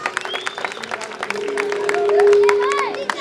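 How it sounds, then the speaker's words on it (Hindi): Crowd at a political rally claps and whistles, with a rising whistle tone building to a loud peak, over steady clapping and a mix of voices from an outdoor gathering. "इनके लिए सीटियां बजाते हुए तालियां बजाइए"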